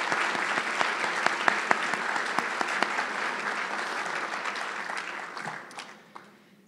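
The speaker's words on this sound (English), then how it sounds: "Let's give them a round of applause." Applause from a benefit dinner audience honoring sponsors, a sustained roomful of clapping with crisp individual claps standing out, holding steady for several seconds before thinning and fading away near the end.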